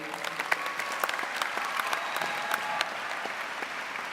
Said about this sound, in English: Give her a nice round of applause, please.